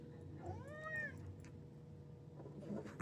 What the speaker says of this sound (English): Cat on camera.